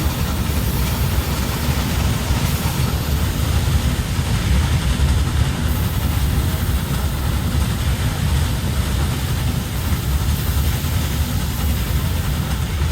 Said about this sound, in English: Another train coming the other way.